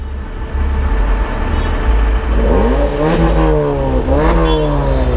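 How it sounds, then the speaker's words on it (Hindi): A modified car with an aftermarket exhaust idles roughly on the road, then revs twice, the engine pitch sweeping up and falling back each time, loud and close. "एक बार रेस देना रेस।"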